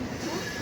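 A train pulls slowly out of Dankuni station, giving a brief, steady, loud rumble of rolling wheels with a faint metallic squeal running through it.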